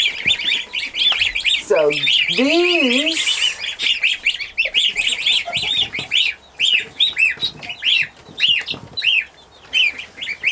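Newly hatched Chinese crested chicks keep up a dense, rapid chorus of high peeps nearby, with a few lower, sliding calls early on and a single word spoken briefly.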